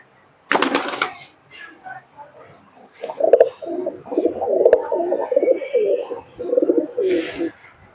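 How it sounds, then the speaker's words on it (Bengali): Giribaj pigeons at a loft in Murshidabad coo in a run of soft, rolling calls close by, with a brief flutter and faint chirps before the cooing. "দুটা কবুতর অসাধারণ দেখতে মোটামুটি কত পিস কবুতর আছে তোমার কাছে"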